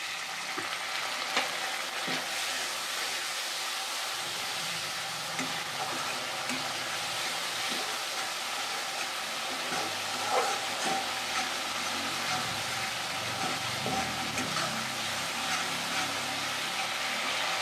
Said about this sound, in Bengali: মশলাটা আমার শুকিয়ে গেছে, আর একটু সামান্য জল দিচ্ছি